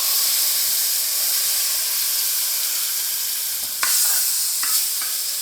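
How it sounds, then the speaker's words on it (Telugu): Hot tempering of spices in oil is poured into an eggplant chutney with the stove off, producing a loud, continuous hiss and sizzle close by, with a couple of sharper crackles partway through. "ఇప్పుడు గ్యాస్ బంద్ చేసి మనము ఈ పోపు దీంట్లోకి వేసుకుందామండి"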